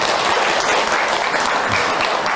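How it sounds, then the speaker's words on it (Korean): An audience at a Buddhist temple dharma talk claps steadily and densely for a couple of seconds, a continuous close wash of applause with no talk over it. "박수 한번 쳐드리세요."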